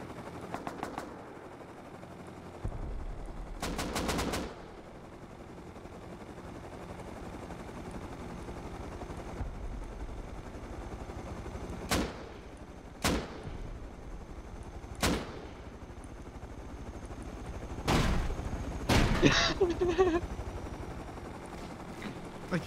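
Gunfire in the survival game Rust: scattered single sharp shots and short bursts ring out at irregular intervals over a steady low background hum, moderately loud and with no talk.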